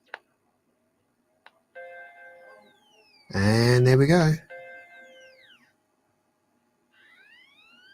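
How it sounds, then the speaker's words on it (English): A Macintosh LC computer powers up and plays a clear startup chime, then a second chime. A person speaks briefly between the two tones, and a faint further tone follows near the end. "That was a chime, 2 chimes."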